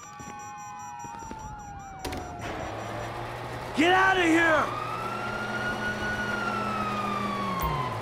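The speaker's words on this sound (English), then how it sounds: "Oh, fuck, you hear that? Sirens!" Police sirens wail and yelp in the video game GTA 5, rising and falling with several overlapping tones among tense game sounds, while someone shouts briefly.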